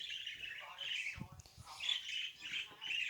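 A young female budgie, about two to three months old, squawks and chirps in quick, bright bursts close by, with a few soft lower sounds in between.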